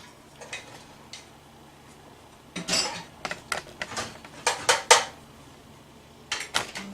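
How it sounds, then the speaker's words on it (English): Turkey sausage for a cabbage dish goes into a pan, giving a run of light clinks, taps and scrapes of utensil on metal, scattered and fairly quiet, with a denser clatter midway and no voices. "I'm going to go ahead and put my sausage in"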